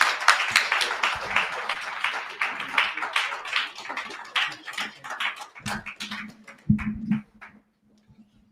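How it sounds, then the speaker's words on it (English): A live audience at a Bitcoin event in Massachusetts claps for a speaker. The applause starts brisk and fairly close, thins into scattered claps, and fades out, with a brief voice and low hum near the end. "Everyone, please give him a round of applause."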